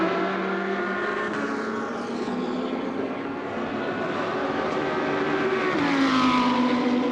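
Audi and Lamborghini GT2 race cars roar past together at Paul Ricard in a GT2 European Series race, a sustained engine drone that rises in pitch as they close on the timing line, steady and fairly loud throughout.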